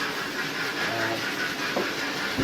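A small model train hums and clatters along a track with a steady hiss and faint rhythmic clicking, running continuously nearby.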